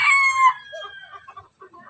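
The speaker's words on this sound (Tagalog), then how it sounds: "Pero yung tilaok maganda naman, hindi malaki." A buyugin rooster crows once, loud and close, its long drawn-out call trailing off into softer clucking and faint background sounds.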